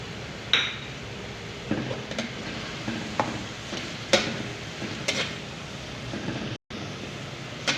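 Chicken fries with crushed red chili, ground black pepper and salt in a pan, a soft steady sizzle broken by several sharp clinks and scrapes of a utensil stirring against the pan, close, with no talking.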